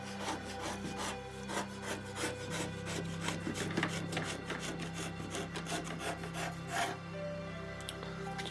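Steady rasping scrapes as a tool works excess leaked varnish off the edge of a model railway pond, repeated strokes close up with a faint tonal hum beneath and no talk.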